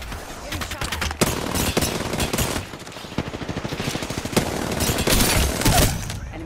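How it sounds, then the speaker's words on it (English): Rapid bursts of automatic gunfire in Apex Legends' Straight Shot mode rattle out repeatedly with sharp single cracks between them, fairly loud and close, while game voice callouts play over the shooting. "Getting shot at."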